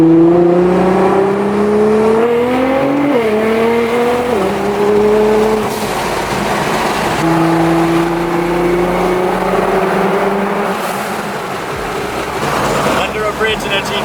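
Wide-body Nissan GT-R with roll cage, wing and carbon race seats pulling away, engine note climbing through revs with a gear change, loud from inside the cabin, with someone talking over it.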